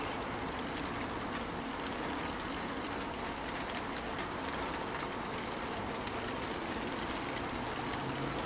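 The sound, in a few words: rain falling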